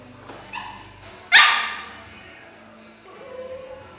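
A dog barks inside a house, one loud, sharp bark standing out after a few softer yips, with quieter whining and movement afterward.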